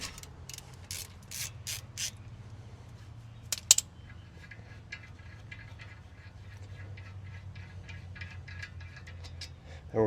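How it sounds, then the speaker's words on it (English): A ratchet wrench clicks in quick bursts while loosening the brake caliper slider bolts on a 2018 Honda CR-V, with a few sharp metallic clinks over a low steady hum. "So we're now going to loosen off the bottom one here too."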